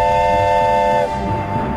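A steady train whistle or horn tone from a subway train in Minecraft sounds loudly for about a second and then cuts off, leaving a low rumbling hum.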